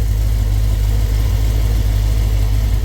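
A 1975 Ford F250 with a 460 V8, Edelbrock EFI and cheap turbo mufflers idles loudly and close up, its low steady rumble pulsing evenly with no voices.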